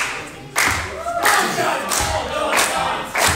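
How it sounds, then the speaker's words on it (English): A crowd at a live wrestling show in Loughton swells in repeated bursts of cheering, shouting and chanting, each surge rising and fading across a few seconds. "The crowd trying to pump up James Pharrell"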